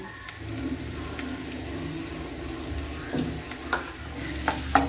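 Garlic sizzles in hot oil in a pan while being stirred, a steady crackling fry broken by sharp scraping clicks of a utensil against the pan, growing busier toward the end.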